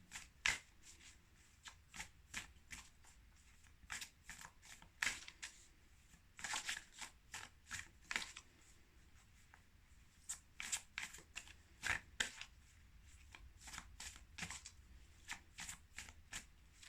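Tarot cards being shuffled close up, with quick, quiet bursts of riffling and papery flicks repeating in irregular clusters and no talking over them.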